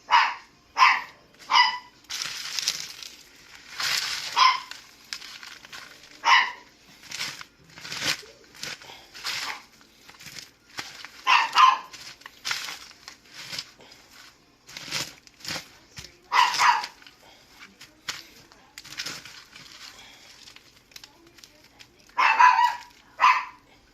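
A dog barks repeatedly at a neighbor at a distance, in short bursts of two or three yaps separated by pauses, over a quiet background.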